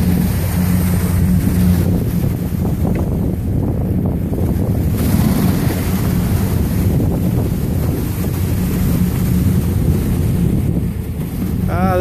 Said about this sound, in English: I'm like a barge breaking through the ice.